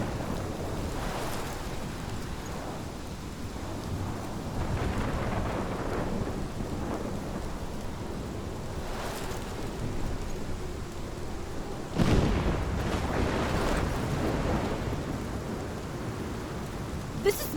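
A thunderstorm with steady rain in the Life is Strange game: rain hisses constantly while low thunder rumbles roll through, with a sharp nearer crack and boom partway through.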